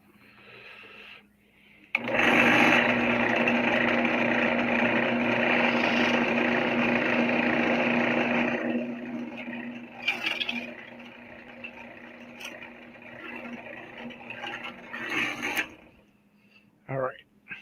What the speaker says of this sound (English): I drilled the hole to put the clanker through.